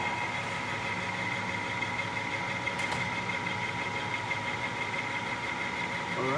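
A lathe spins a machined mandrel for a brake rotor, giving a steady mechanical hum with tonal whine and faint vibration, running continuously at moderate level with no speech.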